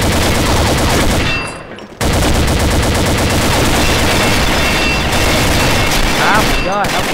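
Rapid gunfire from the online shooter Combat Arms, dense and loud through most of the stretch with a brief dip near the start, while a player talks over the bursts.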